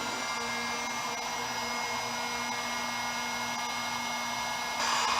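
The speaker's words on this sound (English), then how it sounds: "To do that, we're simply going to take my heat gun." A heat gun drying prepped metal on a tank: a steady, close, loud electric whir with airy rushing noise, unbroken throughout and rising slightly near the end.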